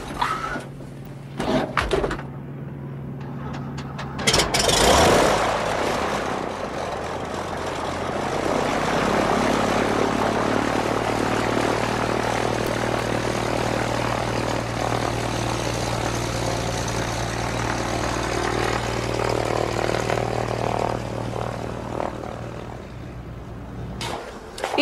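A small propeller airplane starts with sharp clunks and mechanical bangs, then its engine settles into a steady, droning hum that holds for a long stretch before fading slightly at the end.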